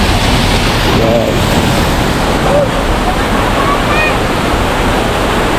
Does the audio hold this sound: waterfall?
yes